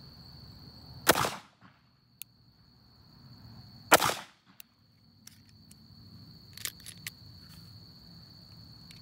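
9mm pistol fired into a ballistic gel test, two sharp loud shots about three seconds apart outdoors, followed by faint clicks and handling noises, with crickets in the background.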